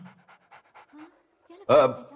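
A dog pants in short rhythmic bursts of breath, close and fairly quiet, before a sudden louder whimpering cry near the end.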